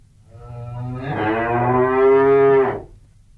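A single long, loud cow moo rises and holds for about two seconds before cutting off, close by and clear with nothing else around it.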